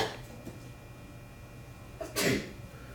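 A single sharp sneeze bursts out near the end, preceded by a brief intake of breath, against a quiet background.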